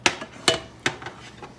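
A filo-pastry borek being flipped in a pan produces three sharp metallic knocks and clatters, close by, each followed by softer taps and a faint background hiss.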